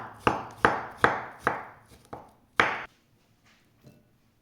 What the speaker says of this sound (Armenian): 4 մասի ենք բաժանում յուրաքանչյուր գազարը ու խորանարդիկների արագ կտրատում ենք